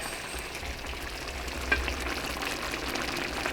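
Shepherd's pie filling being stirred in a pan, with a steady low frying sizzle and soft scraping throughout, plus one brief clink of the utensil partway through; no talking.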